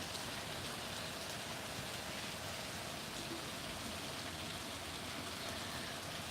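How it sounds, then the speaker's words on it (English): Steady rain pours outside a California home, a dense, even hiss of drops that holds without pause, faint and alone. "Can you hear the rain through the microphone?"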